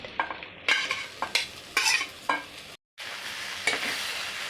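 Soaked soybeans are added to a frying pan and stirred. Scraping stirs sound in irregular bursts over a steady sizzle, close by, with a brief drop to silence partway through.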